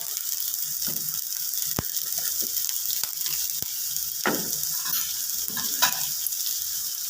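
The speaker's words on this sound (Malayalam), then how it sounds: "ഇളക്കി കൊടുക്കാം. വെളുത്തുള്ളി, കറിവേപ്പില ഇട്ട് കൊടുക്കാം." Garlic and curry leaves sizzle in hot oil with onion in a pan while being stirred, a steady close frying hiss broken by spoon scrapes and clicks.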